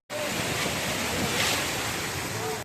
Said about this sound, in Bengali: বাতাস ঝিরিঝিরি ভাবে বইছে